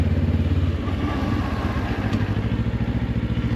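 A motorcycle pulls away on a street, its engine loud and close with a steady pulsing low thrum that shifts pitch slightly as it moves through the gears at a gentle cruising pace.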